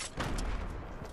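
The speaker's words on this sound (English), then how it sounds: "Grenade launcher." A grenade launcher in a video game fires with one dense, loud burst that booms and rumbles on for about a second, close and unbroken, with no voice over it.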